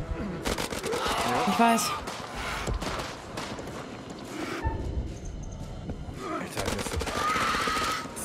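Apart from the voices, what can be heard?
gunfire in the video game House of Ashes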